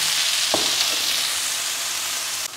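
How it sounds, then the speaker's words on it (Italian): A small bell pepper fries in a pan, giving a steady, even sizzle throughout with a faint stir or clink near the start, close and alone. "Non dovranno andare tanto perché tra l'altro il peperone è tanto piccolo. Andiamo a far cuocere per 5 minuti."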